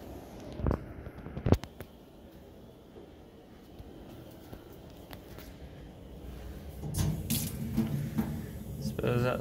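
Water runs from a tap into a foot-washing basin in a prayer room at Stansted Airport, a steady faint stream with a few clunks and splashes, louder near the end as a voice speaks over it.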